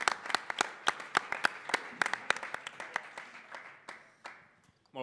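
Audience applause at a Sant Jordi special talk show, a room of people clapping with distinct individual claps over a steady wash, fading out toward the end.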